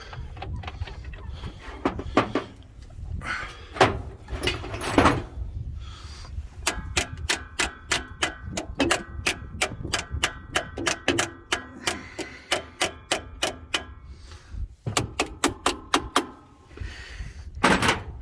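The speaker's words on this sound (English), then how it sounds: "I'm gonna give this thermostat a few knocks." Sharp metallic knocks struck on the thermostat housing of a 1949 Chevrolet, first a few scattered raps, then a long quick run of evenly spaced taps, close and fairly loud, with a short pause before a final cluster.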